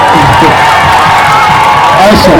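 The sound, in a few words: audience applauding the teacher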